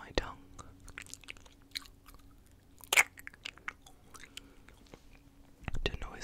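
Close, quiet mouth sounds made with the tongue and gums: wet clicks, smacks and soft crunchy bits scattered irregularly over several seconds, with whispery breaths and a couple of louder pops.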